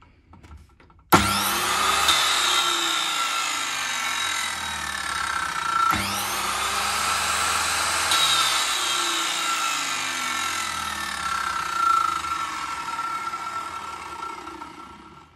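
A Makita power saw from 2014 starts abruptly and grinds steadily through wood, with a brief pause and restart, loud and close, continuing without talk.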